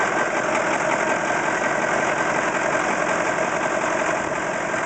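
A Caterpillar 613C scraper engine with misfiring cylinders and suspected broken piston rings runs steadily and loudly up close, giving a rough, uneven knocking throb with no talk.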